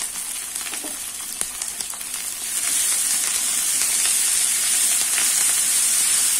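Ginger garlic paste frying with onions in a pan, a loud close steady sizzle that grows fuller partway through, with no talk.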